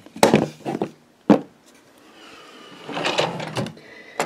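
A drawer in a makeup storage unit slides and knocks as it opens, with several sharp close-up bangs followed by a longer scraping slide. No one speaks.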